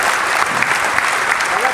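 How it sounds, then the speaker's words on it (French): Audience applause at an award ceremony for the MEDays Leadership Award in Morocco, a dense, steady wash of many hands clapping loudly throughout with no pause. "Sous vos applaudissements, s'il vous plaît."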